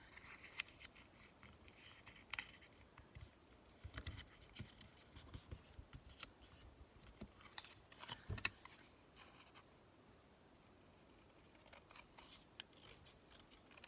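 Scissors snip through paper while a greeting card pouch is being made, the crisp cuts coming in irregular bursts of close, light clicks and rustles with quiet handling sounds between them.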